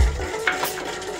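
Milk and sugar being stirred in a warming pan for homemade vanilla ice cream, a short soft scraping swirl with a faint background hiss, close and fairly quiet.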